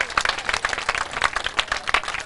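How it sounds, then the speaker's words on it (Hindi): Strong applause rises at a religious ceremony honouring donors during a Lord Rishabhdev celebration in Prayag-Allahabad: dense, loud, continuous clapping from a crowd with rippling peaks, heard alone without speech. "मार जैन तेजारा वाला परिवार भामाशाह के नाम से आज उनको हम अलंकृत करते हैं जोरदार तालियों के साथ।"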